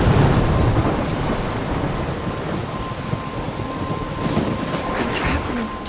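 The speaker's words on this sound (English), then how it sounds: "I'm trapped in a storm?" Heavy storm in the video game Life is Strange, with steady loud rain and rumbling thunder under gusting wind, continuous throughout with no talking.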